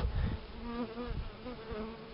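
Honeybees and drones buzz steadily at an open hive whose colony has laying worker bees, a dense close insect hum with shifting pitch running throughout, no talk.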